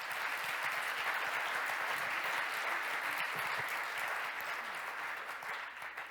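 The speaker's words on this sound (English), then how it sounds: "please give them a riotous round of applause" Audience at an agriculture forum applauds a panel, a dense, loud, sustained wash of clapping from a large crowd that holds steady and eases slightly at the close.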